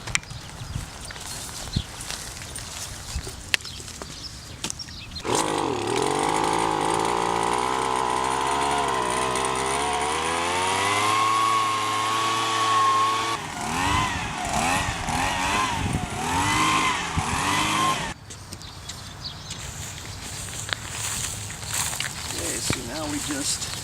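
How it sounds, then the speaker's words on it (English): Bug vac made from a leaf blower with a vacuum attachment and a net bag taped to the end, a steady loud engine whine running for about thirteen seconds, revving and shifting before cutting off. "This is what we call a bug vac. It's basically just a leaf blower with a vacuum attachment, and it's got a net bag taped to the end"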